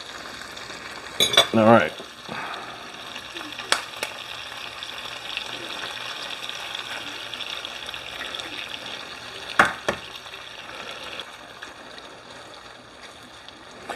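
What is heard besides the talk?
sausage and pepper omelet mixture heating in a pan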